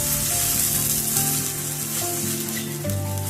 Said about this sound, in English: and saute these on a high flame.